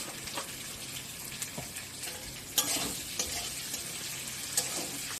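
Onions frying with a pinch of salt in a pan for a fish curry, a continuous quiet sizzle with repeated light scrapes and taps of a utensil stirring, no talking.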